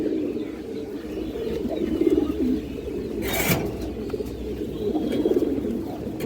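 Pigeons offered for sale, including red dobaz, khaki, kaldom, bagha, green-neck and highflyer breeds, coo in low, steady rolling murmurs close by, with a brief flutter partway through.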